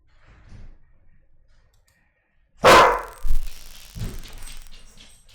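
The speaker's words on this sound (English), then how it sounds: "Sorry about my dogs." Dogs barking indoors, a sudden loud bark followed by a few shorter, softer barks close by, after a quiet stretch with faint room noise.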